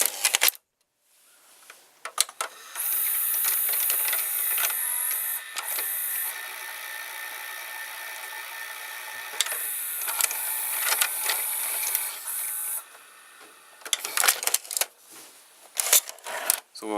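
A VCR's tape loading mechanism and loading motor run up close, whirring and clicking mechanically through a long steady stretch with intermittent ticks and rattles, with no talking.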